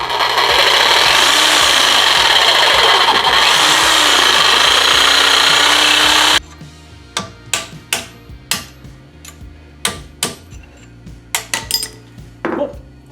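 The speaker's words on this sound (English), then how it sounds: "I'm going to use my Sawzall here" A Sawzall reciprocating saw rasps continuously through the front suspension bushings of an EG Honda Civic for about six seconds. Sharp metallic clanks and knocks from handling parts and tools follow.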